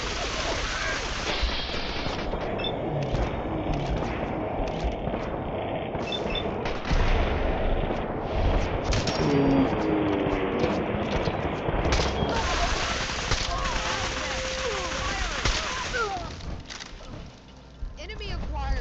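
Rapid gunfire from Fallout 4 rattles in dense bursts alongside booming impacts and battle noise, with a synthetic voice calling out briefly over the shooting.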